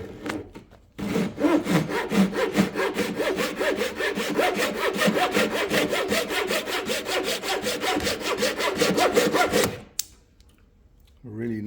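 A Jorgensen 6-inch folding Japanese pull saw cutting through wood, close and loud, with quick regular rasping strokes for about nine seconds that stop abruptly, followed by quiet.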